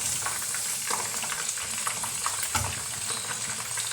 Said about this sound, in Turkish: Soğanlarım orada kızarırken soğanlarım da burada kavruldu arkadaşlar.